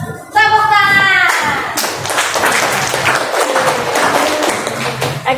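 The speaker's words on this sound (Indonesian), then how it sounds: "Tepuk tangan." Applause from a group, likely schoolchildren in a classroom teacher-training session, follows a short burst of a voice, then settles into steady, fairly close clapping.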